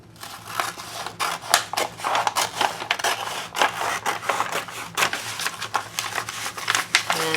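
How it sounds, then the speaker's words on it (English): Brown paper bag being cut along its glued seam with scissors, a dense run of crisp snipping and crinkling paper, close and fairly loud, with no talking. "And so I just cut down that."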